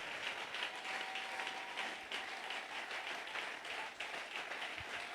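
A church congregation breaks into sustained applause, many hands clapping steadily and evenly throughout, a dense wash of sound in a large reverberant space.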